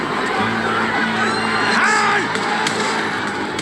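A large crowd of protesters at the gates of Nepal's parliament fills the air with a dense, steady roar of many voices, with occasional shouts and whoops rising from the mass.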